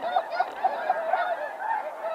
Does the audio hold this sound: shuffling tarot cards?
no